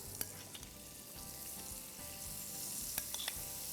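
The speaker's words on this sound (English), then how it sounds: "Now let's place our prawns on this grill pan." Prawns sizzle in butter on a grill pan, a soft continuous frying hiss with a few small pops and clicks, fairly quiet and close with no talking.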